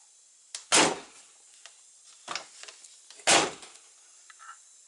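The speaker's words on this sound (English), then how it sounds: "Door shuts solid." Two solid thuds of a 1996 Jeep Grand Cherokee driver's door shutting, a few seconds apart, with softer clunks and rustling in between.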